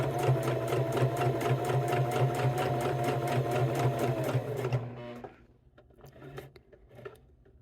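A sewing machine stitches a cork wallet, a loud, rapid, evenly pulsing whir for nearly five seconds, then stops, leaving faint scattered taps and handling noises.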